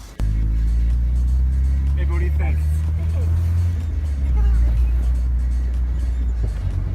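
A steady low engine rumble from inside a moving 1983 BMW E21 320i, constant throughout, with a person talking briefly over it.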